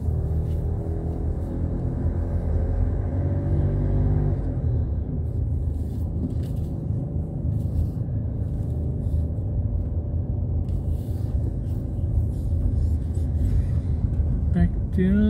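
A car drives down the ramps of the Warwick Farm commuter car park, a steady engine rumble with a shifting tone. A person talks over it.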